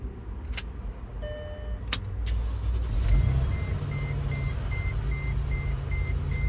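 A 2011 Mercedes-Benz GL450 has a chime and a few clicks, then the engine turns over and settles into a steady idle rumble while a repeating electronic beep from the locks sounds at regular intervals, close and clear.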